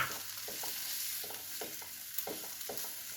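Chopped capsicum is stirred into a spiced gram flour mixture in a pan, with soft rhythmic scraping strokes over a faint sizzle, quiet and close with no talking.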